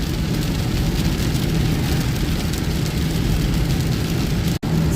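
Heavy, bucketing rain pours onto a vehicle driving along a rural road, a dense, loud, continuous hiss mixed with road and engine rumble, with a brief dropout near the end.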